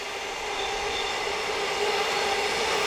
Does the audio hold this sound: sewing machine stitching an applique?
no